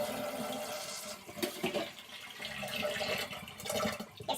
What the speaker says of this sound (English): You flush the toilet to try to get as much water out of it as possible.